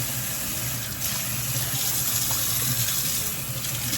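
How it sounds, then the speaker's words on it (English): Tap water runs steadily while green onions are washed in a kitchen sink, a constant close gushing rush that fills the whole moment with no speech. "I am finished washing my green onions"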